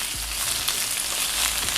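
Vegetables sizzle loudly in a hot wok with chili oil while being stir-fried for rajogi, a steady crackling hiss with faint scraping from stirring.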